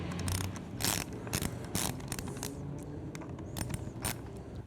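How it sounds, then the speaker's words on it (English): A 5mm Allen hex bit loosens the clamp bolts on the master cylinder of a Triumph Scrambler 1200 motorcycle, giving close, irregular metallic clicks and tool rattles in short bursts with no talk. "Now using our 5mm Allen hex bit, can loosen the bolts off the master cylinder."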